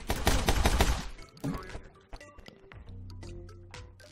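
Gunfire from guns in the action game My Friend Pedro opens with a loud, rapid burst of close shots, then gives way to scattered single shots and clanks over a lower droning game backdrop.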